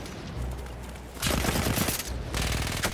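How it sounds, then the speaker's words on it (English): Dense, continuous automatic fire from a sentry gun in Battlefield 1 rattles on at moderate distance, pausing briefly before resuming in sustained bursts. "Oh, that's a sentry gun?"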